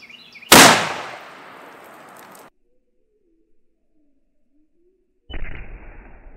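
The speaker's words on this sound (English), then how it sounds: "let's see if we can shoot straight and catch this 300 Win Mag in those jugs back there" A single loud, sharp 300 Win Mag rifle shot fired outdoors toward milk jugs, its boom rolling off over about two seconds, then a quiet gap before another loud burst of noise starts.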